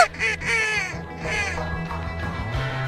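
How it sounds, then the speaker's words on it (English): A big group of ducks calls outdoors, overlapping quacks and honking cries rising and falling in bursts, fairly loud, with a low rumble of background noise. "Yeah, big group of ducks on the right."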